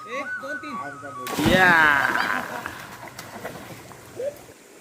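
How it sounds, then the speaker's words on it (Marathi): A boy leaps into a village river with one sharp, close splash, followed by churning water as voices chatter around it. "बघा आता कशी पाण्यात उडी मारणार आहे"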